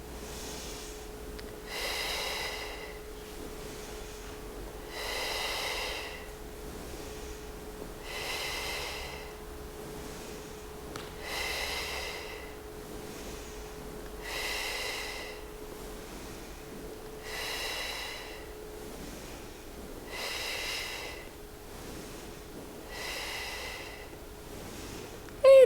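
Slow, steady breaths during a qi gong exercise, each exhale a soft airy rush repeating at an even pace about every two seconds over a faint steady hum.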